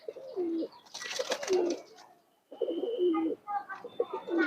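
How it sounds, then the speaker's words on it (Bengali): A male pigeon of the working Bagha line coos in a pigeon loft, low rolling calls repeating in bursts with a short pause, mixed with other bird chatter and some rustling. "কবুতরটা অনেক সুন্দর, এটা একটা নর কবুতর।"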